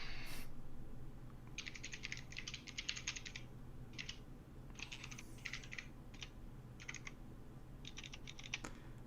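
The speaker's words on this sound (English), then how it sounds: "Let me type it in." Someone types on a computer keyboard in short irregular bursts of quick keystrokes separated by pauses, faint against a low room hum, with no speech.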